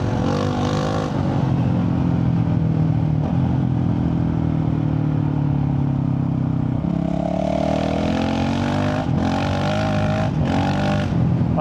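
A Honda CRF450RL dual-sport motorcycle with a Stage 2.0 tune, ridden under throttle: a loud, steady engine roar with shifting pitch, rising as it accelerates and punctuated by brief gear-change gaps near the end.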